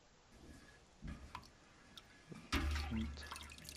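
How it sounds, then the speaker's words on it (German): Water splashes in as a short pour into milk during Camembert cheesemaking, a quiet drip at first, then a louder, fuller gush over the last second or so. "Dann wieder einen Schluck Wasser dazu."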